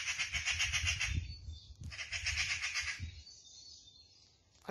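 A magpie squawks in alarm, nearby, in two bursts of harsh rasping chatter separated by a brief pause, then fades toward quiet.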